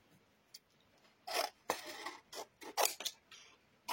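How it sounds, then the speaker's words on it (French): Scissors cut excess thin decorative paper for an album in a quiet room, giving a string of close, crisp snips and rustles, some single and some in quick pairs. "Et je vais couper le surplus."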